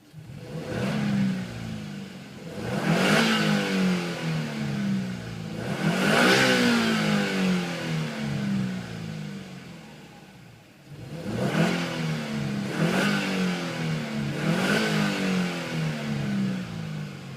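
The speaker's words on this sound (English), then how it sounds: "Just give it a bit of a rev." A Subaru Impreza STi tS Type RA's engine is revved about four times in succession, each rise and fall clear and close, with a sedate, somewhat tinny exhaust note and no speech over it.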